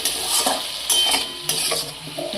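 Spices and eggplant sizzle in a pan for a Bengali spinach dish, while a utensil stirs and scrapes in irregular strokes close by.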